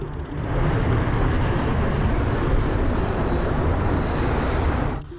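A military plane flies close overhead as a loud, steady engine roar and broadband rush that swells in quickly, holds for several seconds, then cuts off abruptly.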